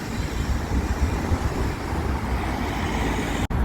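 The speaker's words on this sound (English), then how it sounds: "We can hear the roads" Steady road traffic rumbles at a busy town crossing, a continuous close wash of passing cars and heavier vehicles with no pauses, loud and unbroken throughout.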